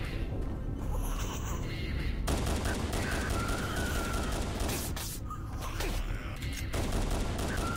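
Sustained automatic gunfire empties a whole magazine in the shooter game Doom 3: 2553, a dense, loud, continuous rattle of rapid shots that breaks off briefly before resuming.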